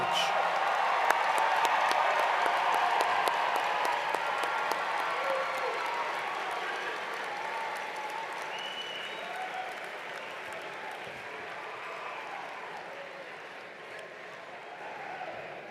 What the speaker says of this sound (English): Please give an extra round of applause for Mohammed Masood, our last graduate, to cross the stage